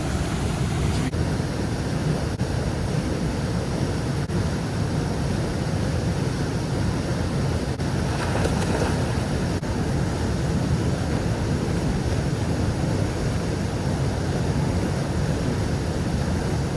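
A waterfall roars as a steady, loud, broadband rush that fills the whole stretch without a break, heard up close from someone swimming in the water beneath it.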